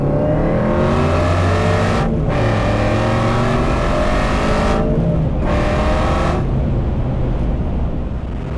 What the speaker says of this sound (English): that was like a 15-mile-an-hour roll in first gear, and just stand on it